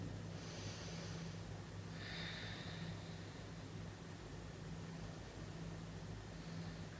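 Soft, slow breaths during a prenatal yoga hold, two or three faint airy inhales and exhales over a steady low hum, close and quiet with no talking.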